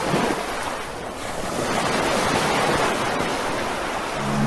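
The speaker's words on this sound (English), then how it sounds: "The slow waves of the water leave you at ease as you maneuver your way through this foggy environment" Slow ocean waves wash against a foggy island in the Roblox game Piggy, a steady, close surf with windy hiss that swells midway and carries on without any voices.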